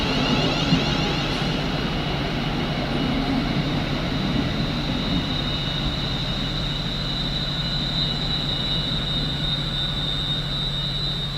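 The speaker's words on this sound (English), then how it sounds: "We got some Class 360-0 unit now, arriving from London Liverpool Street." A Class 360 electric multiple unit pulls into Ipswich station, arriving from London Liverpool Street, a continuous loud rumble and rolling hum with a steady high electric whine throughout, no speech.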